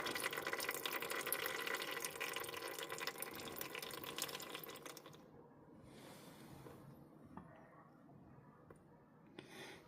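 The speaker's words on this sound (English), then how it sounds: "As it trickles out like that, it doesn't splash everywhere." Engine oil trickles steadily from a Saab 9-3 during a service, a soft continuous liquid flow that is loud at first, then thins and quietens to faint drips.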